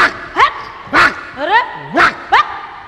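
A man imitates a barking dog during a comic Hindi nautanki stage performance, giving about six loud, sharp barks in an uneven rhythm, close and alone.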